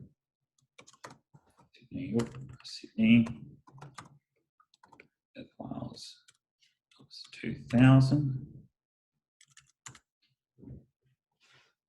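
Computer keyboard typing in bursts of quick clicking keystrokes, fairly close, interspersed with someone speaking in short phrases between pauses in an office setting.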